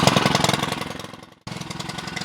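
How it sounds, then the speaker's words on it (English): A gas-powered water pump engine on an off-grid water cart idles steadily after starting on the first pull, a loud, rapid chugging pulse that briefly dips before resuming. "I got the pump just idling"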